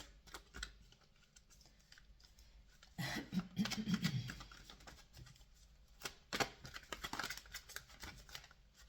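Romance Angels oracle cards are shuffled by hand in short, quiet bursts of riffling and tapping, with a louder flurry in the middle and another near the end, close and soft against a near-silent room.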